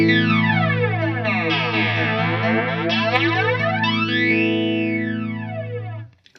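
Electric guitar played through a flanger pedal set with the knob turned all the way up, one sustained chord sweeping in a swirling comb-filtered whoosh that rises and falls for several seconds before cutting off.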